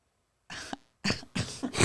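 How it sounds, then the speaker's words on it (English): A woman coughs hard in three harsh bursts, close to the microphone, with short silences between them and no talk. "she's coughing kind of hard"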